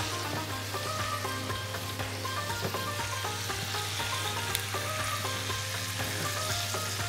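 Sausage sautéing in a pan, a continuous moderate sizzle with soft scattered crackles and occasional faint clinks, steady throughout with a constant low hum beneath and no talking.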